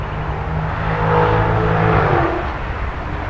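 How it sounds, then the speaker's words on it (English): Steady traffic on a multi-lane urban highway, Highway 55 (Hiawatha Avenue), with a continuous engine rumble and tire whir that swells as vehicles pass nearby, then eases off. "cars pass at a steady clip along the multiple lanes of the recently rerouted Highway 55 or Hiawatha Avenue"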